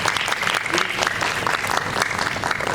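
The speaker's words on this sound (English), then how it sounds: "So just one more round of applause." An audience at a piano competition final claps in a sustained, dense burst of applause, close and loud, with no pauses throughout.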